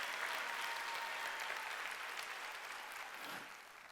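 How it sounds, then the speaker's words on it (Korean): A congregation at a Sunday church worship service applauds in a steady, dense wash of clapping that carries through the whole stretch and thins slightly toward the end. "깨달은 사람만 박수다."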